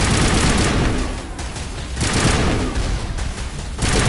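Missiles and gunfire in the Mass Effect video game, a loud continuous barrage of explosive blasts and weapon fire rising and falling in waves across the clip.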